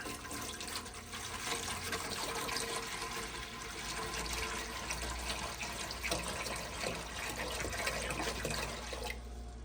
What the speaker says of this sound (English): I'm going to put 2 liters of water.